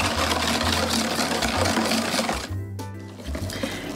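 An electric hand mixer whirs steadily through gluten-free cornbread batter made with buttermilk, coconut flour and cornmeal, a close, continuous motor drone that briefly dips and shifts pitch before running on.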